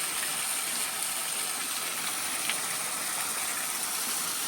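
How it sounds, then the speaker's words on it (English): A waterfall pours out of a rock face beside a cave trail at Carter Caves State Park, giving a steady, broad rushing hiss that stays even throughout, with no talk. "There's a waterfall coming out of the rock."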